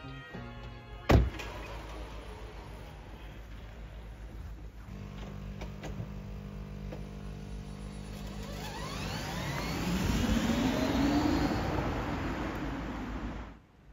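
Electric motor of a converted Volkswagen Golf V wagon, a faint whine that sweeps upward in pitch as the car speeds up, following a sharp click, with quiet background noise and no talk.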